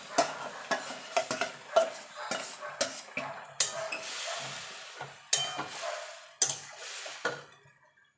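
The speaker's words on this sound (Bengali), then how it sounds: "এখানে যে চিকেনটা মশলা দিয়ে মাখিয়ে রেখেছিলাম সেটা দিয়ে দেবো" Masala-marinated chicken added to and stirred with frying onions in a pan, with a continuous sizzle broken by frequent clanking spatula scrapes against the metal, up close with no talk.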